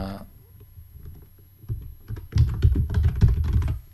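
Computer keyboard typing: a burst of close, rapid key clicks that start sparse and grow dense and louder in the second half.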